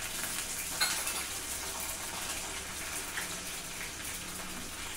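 Cumin seeds crackle and sizzle in hot oil in a home kitchen, a steady broadband fizz holding at even loudness throughout with one small pop near the start and no voices.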